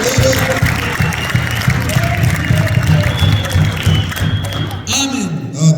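A church congregation claps together in a sustained, dense burst of applause, mixed with crowd noise and voices, fading near the end as a voice rises over it.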